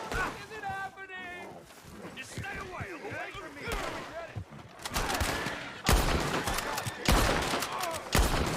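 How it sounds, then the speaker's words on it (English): Bursts of gunfire in a Red Dead Redemption 2 roleplay shootout, sharp repeated shots clustering in the second half, mixed with game ambience and voices talking throughout. "Try to gun me down."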